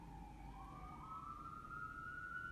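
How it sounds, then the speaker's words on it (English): A faint, distant emergency siren wails with a slowly rising tone over low background rumble. "sorry for the sirens in the background"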